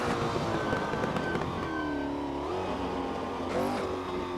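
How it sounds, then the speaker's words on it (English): Car engine revs winding down slowly after the accelerator is released, a steady close-up drone with a gradual falling pitch sweep and no talking. "the acceleration seems to take a long time to wind down when you take your foot off the accelerator"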